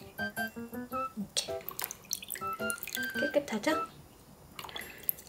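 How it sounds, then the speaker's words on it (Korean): Small splashes and drips of water as seeds are pulled off sliced peppers submerged in a bowl, soft and close, with someone talking briefly over the light sloshing. "씨는 이렇게 물에 담가서 물에서 똑 떼주면 돼요."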